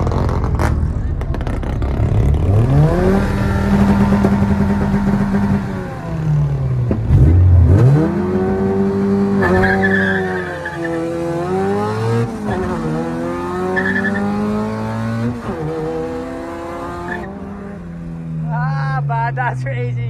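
A V16 racing car engine in a racing video game revs hard through repeated rising and falling sweeps, loud and close, with brief tire squeals and excited voices talking over it.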